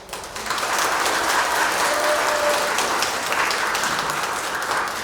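A large crowd at the 80th Liberation Day ceremony in Ulsan breaks into steady, full applause with some cheering mixed in, a broad roar of clapping that swells and holds for several seconds.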